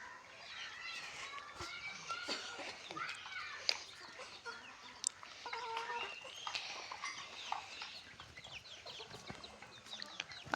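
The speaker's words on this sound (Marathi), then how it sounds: "तिथे कोंबडा आहे ही पिल्ल आहे" Village hens clucking and chirping chicks scattered throughout in the evening, fairly close, with occasional sharp calls from a rooster and soft voices in the background.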